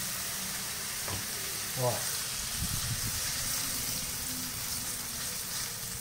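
Shrimp browning in a frying pan make a steady, loud sizzle and crackle throughout, with a brief voice heard once near the start.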